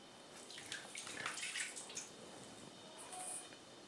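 A hand shower runs water close by as hands are washed, with soft splashing and trickling that swells and fades at low volume.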